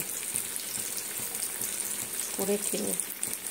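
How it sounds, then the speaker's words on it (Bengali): A chicken cutlet fries in hot oil, giving a soft, steady sizzle that stays fairly quiet while a brief voice cuts in partway through. "এই যে আমি তেলের মধ্যে দিয়েছি না"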